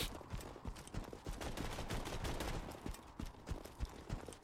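Rapid gunfire from a shotgun or pistol in the shooter game Borderlands 2, a fast series of sharp close shots in a continuous burst with no talking.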